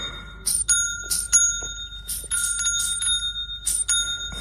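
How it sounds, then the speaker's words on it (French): Doorbell-style bell chime from Better Call Saul, ringing repeatedly in quick irregular bursts with bright sustained tones, fairly loud and alone without talk. "C'est la sonnette du PP dans Better Call Saul."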